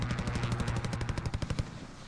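Rapid automatic gunfire in Call of Duty: Warzone, a dense burst of evenly spaced shots for about a second and a half, loud and close, then stopping abruptly.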